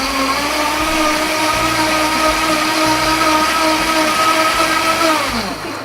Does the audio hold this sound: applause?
no